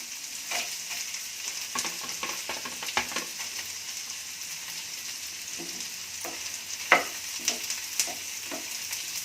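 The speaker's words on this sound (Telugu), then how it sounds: "ఫ్లేమ్ తక్కువ చేసుకొని మీడియంగా పెట్టుకొని కొంచెం సేపు వేయించుకోవాలి." Onions and green chillies fry in a pan for vegetable kurma, giving a steady soft sizzle with occasional sharper crackles and a spoon stirring now and then, close and fairly quiet.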